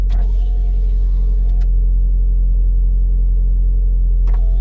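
A Mazda Miata MX-5 NB idles after a slight warm-up, a loud, steady low engine hum from close by, with two short sharp clicks or knocks over it.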